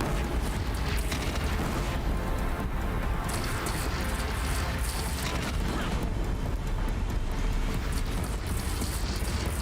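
Loud, dense booming cannon blasts and rumbling fire from a Horizon Zero Dawn battle, continuous and chaotic with overlapping bursts throughout.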